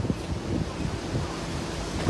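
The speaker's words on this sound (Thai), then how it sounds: "ลมคือแรงมากเลยครับ" Strong wind buffets the microphone outdoors as steady low roaring noise with gusty swells, loud and continuous for about two seconds with no voices.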